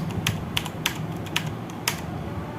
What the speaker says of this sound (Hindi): तो इस तरीके से मैं 1-2 और टाइप कर लेता हूँ